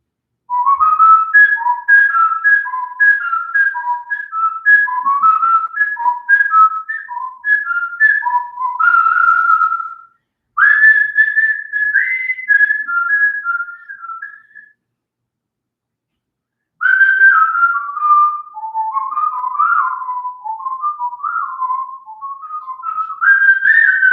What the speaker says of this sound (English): if you guys can guess that song that I was just whistling